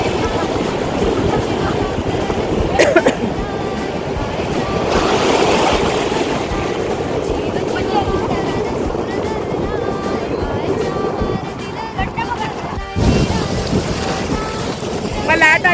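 Sea waves washing in at Bhutnath beach in Tarkali, Malvan, a continuous loud surf wash with wind buffeting the microphone and a few brief bumps.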